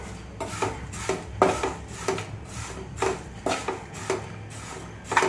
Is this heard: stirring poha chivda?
yes